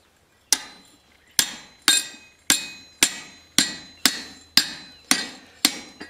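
Hammer blows drive a chisel to punch a hole through hot steel at a blacksmith's anvil: about ten crisp, ringing metallic strikes land close and loud at a steady rhythm, each with a short bright decay.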